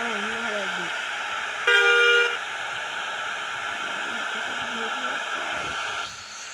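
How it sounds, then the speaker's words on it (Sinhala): A truck horn in the Truck Simulator Indonesia driving game gives a single loud, steady toot lasting under a second over constant engine and road noise, with someone speaking faintly before it. "අර ඉන්දුනීසියාවේ බස් එකේ තියෙන හෝන් එකම තමයි තියෙන්නේ."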